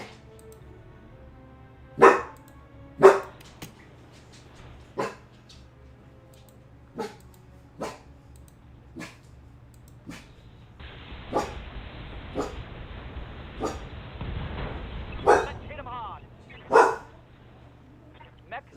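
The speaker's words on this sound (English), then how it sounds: "Sorry about the barking, folks." A dog barks in sharp, separate bursts, roughly a dozen over the span, fairly close, with a stretch of broadband noise partway through and a steady low hum beneath.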